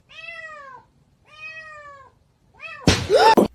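A cat meows twice in long, clear, drawn-out calls, then gives a shorter meow before a loud, harsh burst of noise at the end, close and prominent.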